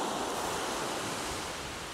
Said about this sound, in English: that wind is blowing, even though we're in the shelter of the cliffs, it's gusting like 26-30 miles an hour